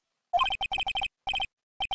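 Electronic phone ring from the Ace Attorney Justice For All video game: a repeating chirpy trill in quick pulsed bursts, two groups followed by a short restart, clean and alone with no talk.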